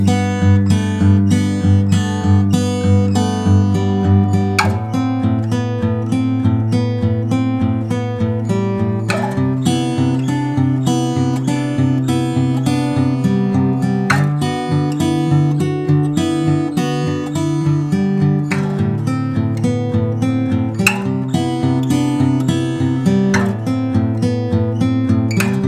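A fingerstyle chord riff played on an acoustic guitar, plucked bass notes and chord strums repeating in a relaxed, steady pattern, close and clear with no talking.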